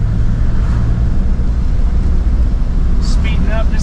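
A 1972 Ford F-350 crew cab truck engine drones in a steady, low rumble while accelerating out of town, with road and wind noise and a voice talking over it.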